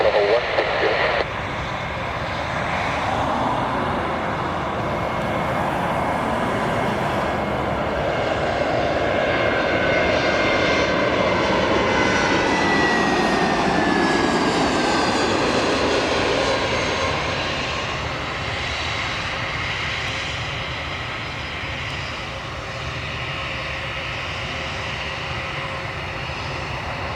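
An Airbus A320 jet takes off at Lisbon airport, a long, loud engine roar that swells and sweeps in pitch as the aircraft passes, then slowly fades away.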